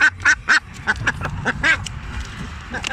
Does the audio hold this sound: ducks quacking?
yes